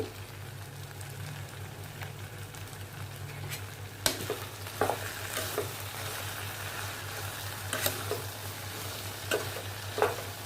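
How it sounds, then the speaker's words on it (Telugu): Potato and brinjal mixed vegetable curry with salt and turmeric fries in a pan, a soft steady sizzle under intermittent scraping stirs and a few spoon knocks, fairly quiet and close, no voices. "ఇది బంగాళదుంపలు అన్నీ మగ్గిపోయినాయి వంకాయలు లేక వంకాయలు కాబట్టి త్వరగా మగ్గిపోతుంది"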